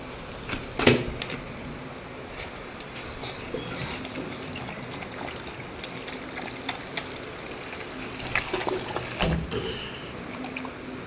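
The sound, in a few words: water being poured and falling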